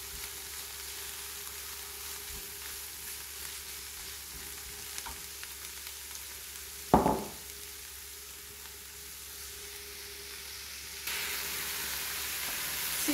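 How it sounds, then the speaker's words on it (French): Chanterelle mushrooms and garlic fry in a pan, a steady low sizzle broken once by a sharp scrape or clatter of the stirring utensil, with the sizzle briefly growing louder near the end. "Tout en mélangeant bien pour pas que ça colle quand même sur le fond de la poêle."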